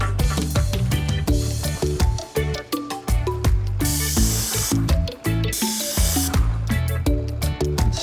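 Bursts of hissing spray from a paint spray gun applying urethane paint to a truck camper come in short pulses over a background of rhythmic music, with two longer sustained sprays in the middle.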